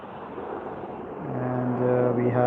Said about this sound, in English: we have the Air Canada 787 departing out to London Heathrow